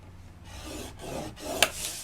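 Cardstock being scored for a handmade tea caddy gives a few dry rasping strokes, close and fairly loud, with a brief sharp scrape near the end.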